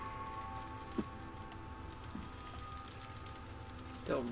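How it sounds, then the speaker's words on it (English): Rain falls in a horror video game, a steady soft patter on surfaces with a few brief louder knocks and creaks rising over it, with no speech. "Still raining."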